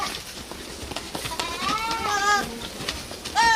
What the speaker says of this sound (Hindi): बकरियां बड़े मजे से घूम घूम कर चारा खा रही थी।